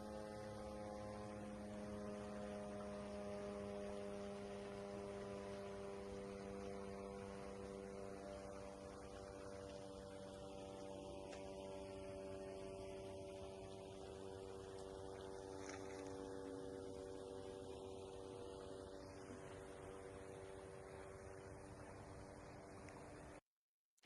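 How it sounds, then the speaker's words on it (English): Continuous faint drone of attack drones flying toward the Millerovo airbase, a steady layered hum with a slowly rising and falling whine, distant and alone. "still letting us hear at least the drones flying to the Millerovo airbase"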